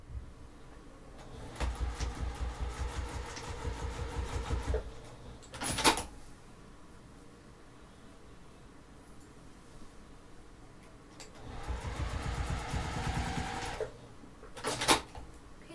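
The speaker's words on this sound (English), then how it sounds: "I'm going to take this over to the sewing machine and I'm going to stitch those straps down using an eighth of an inch seam allowance." A sewing machine stitches down bag straps with an eighth-inch seam, running in two rhythmic bursts of a few seconds each, separated by a quieter pause and a couple of brief clunks from handling the fabric.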